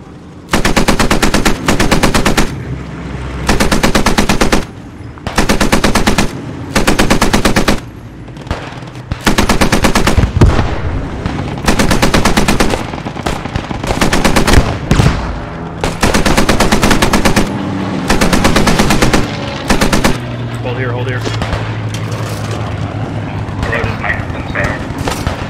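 An M1919A6 machine gun in the game Post Scriptum lays down suppressive fire in long, loud sustained bursts separated by short pauses, with other distant gunfire and occasional talk between bursts.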